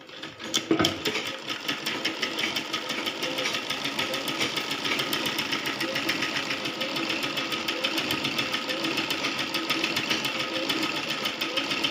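A sewing machine stitches cloth for a baby's long frock in rapid, even mechanical chatter, a close and continuous needle rhythm that runs almost the whole time after a brief start.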